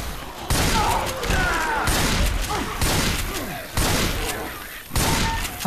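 Repeated heavy gunfire bursts and booms from the video game Left 4 Dead 2, rapid and loud, separated by short gaps.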